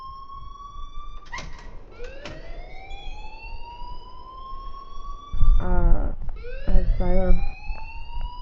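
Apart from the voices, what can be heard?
alarm ringing in the video game Life is Strange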